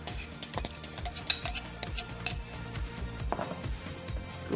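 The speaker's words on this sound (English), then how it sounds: "Like rice, couscous has to be stirred with a fork, not a spoon" Couscous with chopped tomato, onion and lemon being stirred with a fork in a bowl, giving close, busy scraping and light clinking strokes in an uneven rhythm, with no talk.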